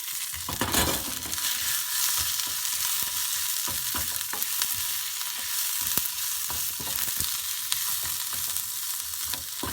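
Onions for a sayadiyeh fish garnish frying in oil and being stirred, a strong continuous sizzle with irregular scraping and knocking of the spoon against the pan throughout.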